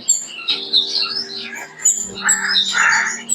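Pet Gouldian finches and parrots, including a yellow blue-face parrot mutation, call in an aviary with a steady mix of bright chirps, tweets and harsh squawks that overlap up close for the whole stretch.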